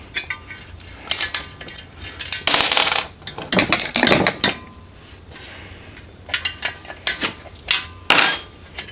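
A hammer delivers several sharp metallic whacks and clangs against an engine's muffler gasket, each strike a bright ringing hit, spaced irregularly and close to the microphone, with no voices.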